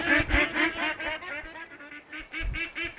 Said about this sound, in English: Bad choice, ducks.